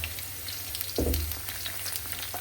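Whole cumin and garlic hit hot oil with a sudden loud sizzle that settles into a steady close crackle, with no voices.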